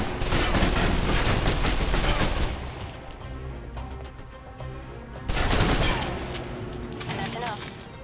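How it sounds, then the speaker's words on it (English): Submachine guns rattle off rapid bursts in a close-quarters video game firefight, a loud sustained spray of shots that pauses briefly before a second long burst. "If you're trapped in close quarters with multiple opponents, the SMGs can help clear the room quickly"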